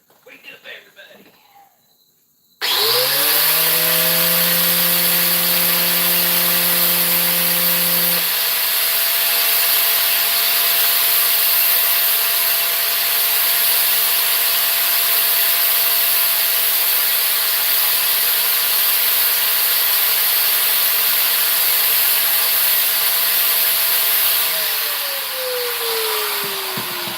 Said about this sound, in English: had to sharpen my tungsten from yesterday